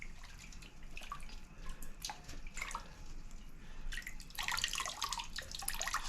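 Water drains from a plant pot into a tray, trickling and dripping steadily, growing into a fuller splashing flow toward the end, close by with no talking.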